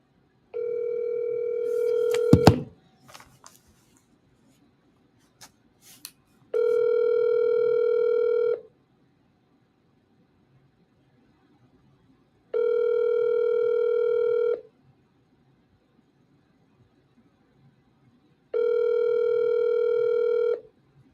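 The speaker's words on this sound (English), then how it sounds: "Let's call Evan." Telephone ringback tone on an outgoing call, steady buzzing tone in three evenly spaced bursts of about two seconds, each separated by several seconds of quiet, preceded by a few short clicks and dialing blips.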